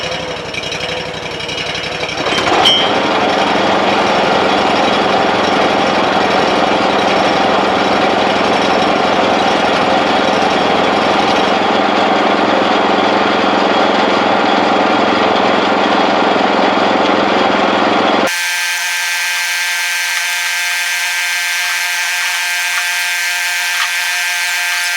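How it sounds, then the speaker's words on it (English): Firewood processor conveyor running loud and close, a continuous engine drone with clattering mechanical noise that shifts abruptly to a steadier hum near the end. "Let's turn on this conveyor."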